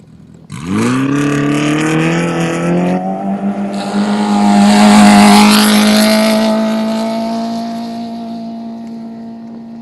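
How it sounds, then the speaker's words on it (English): A Polaris Pro R off-road rally car in the T4 category launches from a desert rally stage start, its engine snapping to a loud, steady high-revving drone that builds and holds as it pulls away, with no talk. "This is another Polaris Pro R in the T4 category."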